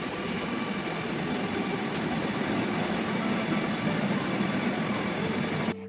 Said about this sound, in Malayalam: അല്പസമയത്തിനകം ആലുവയിലേക്കുള്ള മെട്രോ വന്നു